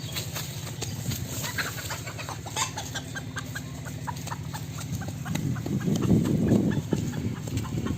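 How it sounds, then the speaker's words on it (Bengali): Several chickens cluck and call in quick, overlapping bursts close by, with a rooster-like squawk rising louder toward the end. "আসুন আমরা এখন মুরগি ধরবো।"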